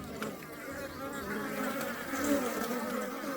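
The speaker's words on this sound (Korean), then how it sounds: "여기도 벌이, 벌이 지키고 있나요" A steady, close buzzing of wild bees moving into a hive that hums continuously and swells slightly, with no voices.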